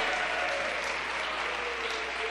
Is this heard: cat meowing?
no